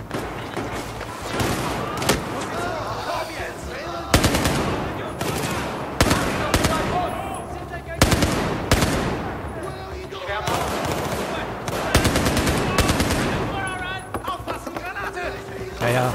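Heavy gunfire crossfire in Battlefield 4 erupts in repeated bursts of rapid machine-gun and rifle shots, loud and near, with short pauses between volleys and a voice talking over it.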